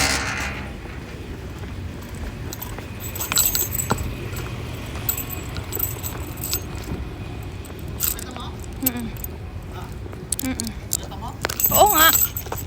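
A bunch of car keys jangles and clinks in irregular bursts close by, mixed with handling noises, while people talk over them outdoors.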